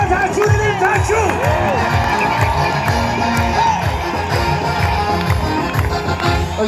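A worship crowd shouts and ululates for Jesus, loud layered cries and trilling voices overlapping with rhythmic thumps throughout, close and energetic.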